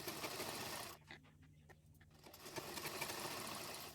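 A sewing machine stitches a blouse lining onto the main fabric with a faint, steady whirring run that pauses briefly midway and then resumes, without talking.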